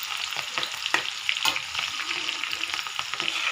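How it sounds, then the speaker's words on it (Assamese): Onions frying in a pan, giving a continuous close sizzle and crackle with occasional stirring scrapes through the whole stretch, no speech. "পিঁয়াজটো ফ্ৰাই কৰি ল'ম।"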